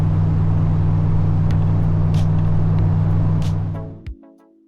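A Dodge Ram truck cruises at 55 mph, its loud steady engine drone and road roar filling the cabin with a few brief rattles, before the engine abruptly cuts off near the end, leaving faint ticking and a short hum.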